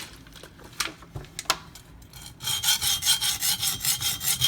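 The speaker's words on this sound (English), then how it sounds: "It sounds so rough because this is one, a very coarse stone, and two, I'm at a very high angle" A knife blade drawn across a very coarse whetstone at a high angle, first a few scattered scrapes, then a rapid run of rough, gritty rasping strokes in even rhythm, close and fairly loud.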